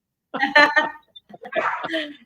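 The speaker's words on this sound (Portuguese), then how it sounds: "É a cachorra latindo aqui." A female dog barks from inside a home at a passing garbage truck, two loud, close bursts of barking and yipping separated by a short pause.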